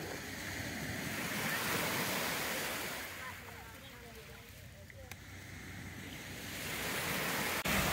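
Ocean surf at a beach, a steady broadband wash that swells at the start, eases in the middle and builds again toward the end, with light wind noise and faint voices in the background.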